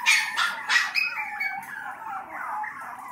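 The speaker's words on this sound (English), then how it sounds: "And protesting in the background is Eileen F1 and F2." Shih Tzu Bichon puppies bark and yip in the background, with high, thin, overlapping protesting cries and whimpers continuing throughout.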